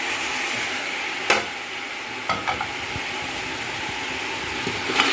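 Mutton frying in a pan with whole spices and masala for Pakistani biryani, a steady close sizzle with stirring scrapes and a few sharp clinks of a spoon against the pot.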